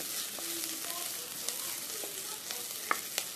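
Green chilies fry with softened onions for a Kerala-style beetroot thoran: a soft, steady sizzle broken by light stirring taps and a few sharp clicks.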